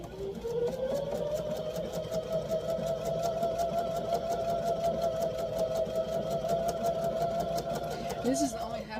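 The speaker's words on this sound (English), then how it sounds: "Now we are going to sew just on a stitch or 2, like a stitch width or 2, just on the inside of that" A sewing machine runs at a steady, continuous hum while stitching a quilt block, sewing a stitch width inside a marked line on a half square triangle. Motor drone is loud and unbroken throughout.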